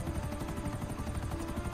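A helicopter in Grand Theft Auto V makes a steady, dense rotor drone with a fast chopping pulse, continuous and moderately loud throughout.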